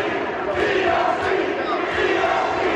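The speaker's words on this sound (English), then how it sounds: "Listen to the yay chant for the EOC." A wrestling crowd in a gym keeps up a steady, loud chant of yays in unison, a dense wall of voices with no single speaker standing out.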